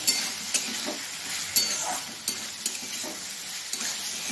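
Cumin, coriander and red chili are stirred in a frying pan for a vegetarian papaya dalna. A soft frying hiss carries sharp, irregular spatula scrapes and taps against the pan, close and moderately quiet.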